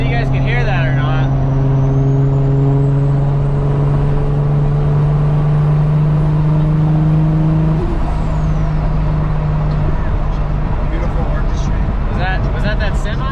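A semi truck roars past a car on the road, its steady low engine drone sliding in pitch, heard from inside the moving car over road and cabin noise.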